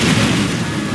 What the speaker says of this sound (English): Particle cannon ready. Particle cannon activated.